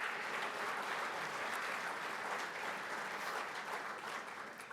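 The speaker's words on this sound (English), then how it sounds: "please give them a round of applause" A lecture audience at a World War II history event applauds its sponsors with a steady, sustained round of clapping that sounds somewhat distant throughout.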